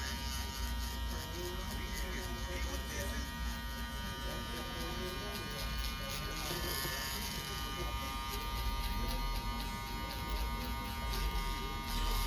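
Electric hair clippers buzz steadily throughout a fade haircut, the guard set half open to soften a guideline, with someone talking over the constant close hum.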